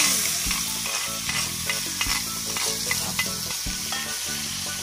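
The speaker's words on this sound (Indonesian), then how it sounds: "Langsung kita tumis ya." Ground spice paste is stir-fried in a hot pan while it is made into bakso mercon. It sizzles loudly and evenly, and a utensil scrapes and clacks against the pan in a repeated rhythm.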